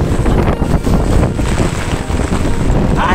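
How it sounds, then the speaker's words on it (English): Strong outdoor wind in Jamaica buffets the microphone with a steady, loud low roar and gusty rumbling, continuous throughout with no voices. "It's windy out"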